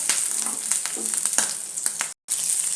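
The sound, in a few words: eggs frying in a pan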